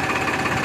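An Escorts Powertrack farm tractor engine idles at around 600 rpm, making a steady, close, rumbling drone with an even low throb for the whole brief moment.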